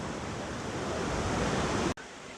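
Steady, loud rushing water from a small mountain creek near a waterfall in Tennessee, continuous and close, with a brief dropout near the end.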